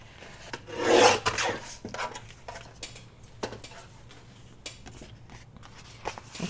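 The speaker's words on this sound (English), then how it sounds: "I can go ahead and trim it with my trimmer" A paper trimmer slices through paper in one loud, rasping cut near the start, followed by faint scuffing and light handling noises close by.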